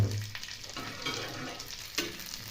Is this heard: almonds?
yes